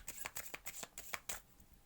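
A deck of oracle cards being shuffled by hand, a quick series of crisp riffling flutters in close succession with short pauses between bursts, no talking.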